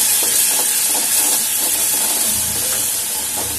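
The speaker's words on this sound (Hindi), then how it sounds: "अब हम इसमें ये मसाला जो हमने बना के रखा था वो इसमें ऐड कर देंगे" Spice masala hits a hot pan of oil and browned onions with a loud, steady hiss and sizzle that stays close and constant throughout.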